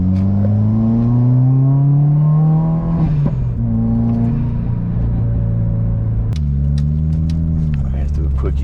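A loud modified Subaru WRX engine revs and drops repeatedly, the exhaust note rising in pitch and falling with induction noise and backfire, heard from inside the car.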